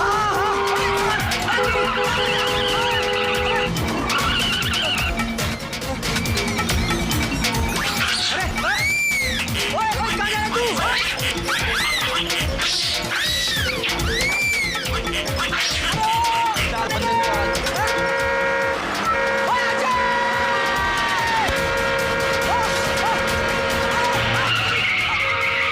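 A car driven on two wheels in a comedy film scene, with tires screeching and skidding in long squeals over a roaring engine, loud and sustained with busy background sound throughout.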